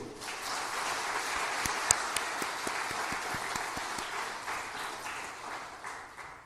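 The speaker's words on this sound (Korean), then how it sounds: "하나님께 영광의 박수." A church congregation applauds to give glory to God, a fairly soft, steady wash of many hands clapping with a few sharper individual claps standing out.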